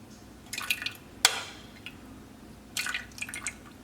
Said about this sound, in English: I'm gonna give a little stir.